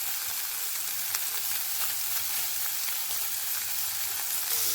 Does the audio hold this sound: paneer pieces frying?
yes